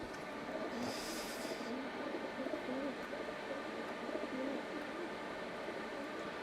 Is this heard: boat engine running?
no